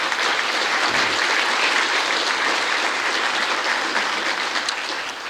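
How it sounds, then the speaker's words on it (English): At a rural water conference awards session in Ireland, the audience applauds a group water scheme winner with loud, continuous clapping from a full room, steady and unbroken for several seconds. "You might applaud them there,"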